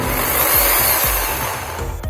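A Black and Decker 550W hammer drill running in normal drill mode, a continuous whirring motor with a loud, steady buzz and faint periodic knocks, close to the microphone and without speech.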